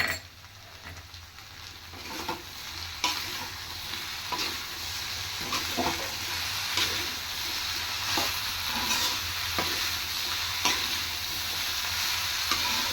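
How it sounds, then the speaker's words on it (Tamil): Beans and pumpkin being stirred and sautéed in a pan, with a steady sizzle of frying under repeated scraping stirs, close and continuous throughout. "எல்லாத்தையும் ஒரு கொஞ்சம் 5 நிமிஷம் திருப்பி நல்லா வதக்குங்க."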